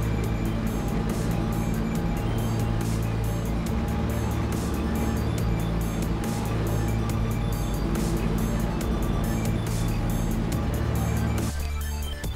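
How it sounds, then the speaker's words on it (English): A push mower cutting a hill runs with a constant, loud engine drone and steady harmonic hum, close to the listener, with faint ticking above it and a brief change near the end. "with the push mower."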